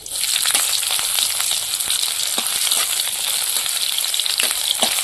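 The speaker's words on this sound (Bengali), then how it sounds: "এবার পেঁয়াজ কুচি দিয়ে দেবো।" Chopped onion hits hot oil in a wok with dried chillies, frying in a loud, dense, continuous sizzle with crackling pops throughout.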